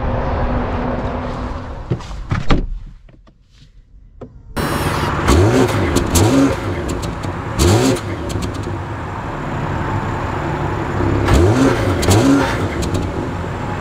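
A BMW 540i drives off with its engine revving and accelerating, a steady loud engine roar with repeated rising swells of acceleration, close and alone.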